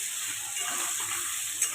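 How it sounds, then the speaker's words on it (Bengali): Potatoes fry with turmeric and salt in hot oil, giving a soft, even sizzle with a faint steady hiss and one small clink near the end, close and fairly quiet. "ভালো করে আমি আলুকে ভাজতে থাকবো।"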